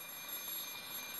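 An alarm clock rings in the Fate/Stay Night game, a steady high electronic tone that carries on throughout the moment, moderately loud with no voices.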